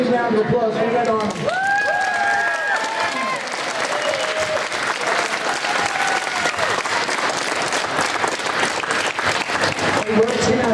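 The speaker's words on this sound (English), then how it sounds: "Applause for Red Army." Sustained audience applause greets the Red Army team at a 2015 state championship event, dense steady clapping running the whole stretch with crowd noise and some overlapping voices mixed in.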